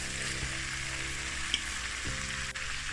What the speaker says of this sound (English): And now we're gonna add the ackee.